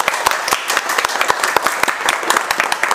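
A class of students at a phone repair training session claps together, a loud close burst of fast, uneven hand claps lasting a few seconds.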